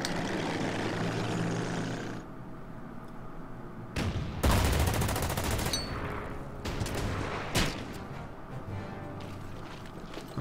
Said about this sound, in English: the Bristol does a shot on one of my panzers